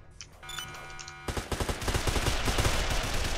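Gunfire in the Roblox game, a few scattered shots at first, then dense rapid automatic fire building up loud and continuous.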